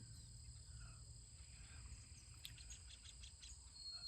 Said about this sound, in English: I got some kind of bird up there that's creating a problem